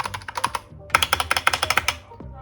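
The enter key on a Skyloong SK61 keyboard with Gateron optical yellow switches is tapped repeatedly, close crisp clacks in quick uneven bursts, a short run, a pause, then a faster flurry.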